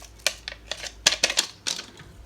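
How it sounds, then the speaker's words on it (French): Waffle batter being stirred by hand in a bowl after vanilla sugar is added, giving a series of short clinking, scraping strokes at an uneven rhythm, close and fairly quiet. "Et je vais mélanger."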